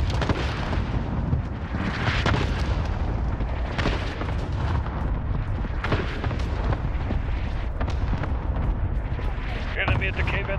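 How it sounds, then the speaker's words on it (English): Cluster strike explosions in Call of Duty: Modern Warfare pound in a dense, continuous barrage, with loud repeated booms and bursts layered over gunfire and battlefield rumble while voices call out in the background. "Cluster strike away."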